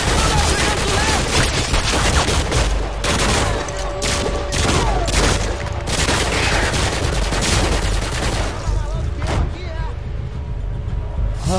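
Sustained automatic gunfire and bursts in Modern Warfare 2 blaze loudly and nearly nonstop, with a voice talking over the shooting at times.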